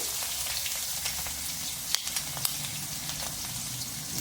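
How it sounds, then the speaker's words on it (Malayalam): Finely minced ginger sautés in hot oil, a steady close-up sizzle and crackle running throughout with a couple of brief sharper pops, no voices. "ഇഞ്ചി നൈസായിട്ട് കൊത്തി അരിഞ്ഞത് ആദ്യം എണ്ണയിലിട്ട് വഴറ്റുക"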